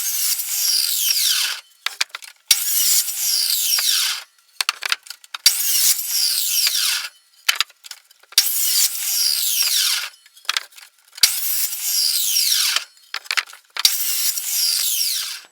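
Power saw cutting wooden workbench struts to length, in repeated loud bursts of whining, high-pitched cutting, each about a second or two long, separated by short pauses as the next strut is set, with no talk.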